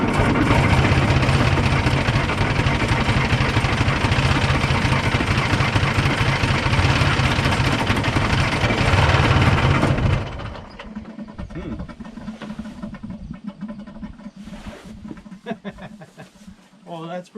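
An abandoned 1960s Pettibone machine's engine runs loud and rough close by, then cuts to a much quieter idle about two-thirds through, with a voice speaking over it.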